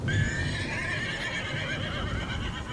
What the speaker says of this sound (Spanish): se volvieron a escuchar otro relinchar